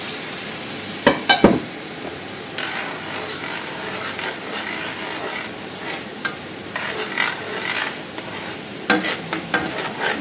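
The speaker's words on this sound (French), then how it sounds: "je vais venir verser environ 10 centilitres de vin blanc. Voilà, ça va déglacer." White wine poured into a hot pan of lightly browned onions to deglaze, giving a steady close sizzle and crackle with a few sharp clinks and scrapes of a utensil stirring, no talking.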